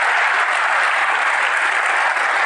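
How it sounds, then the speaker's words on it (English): Loud, sustained applause from a hacker conference audience, dense clapping filling the whole stretch with no talking over it. "everyone give them a huge, huge round of applause"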